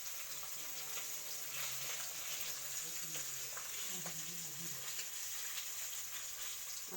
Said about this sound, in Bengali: এখানে তো মাছ ভাজা হচ্ছে।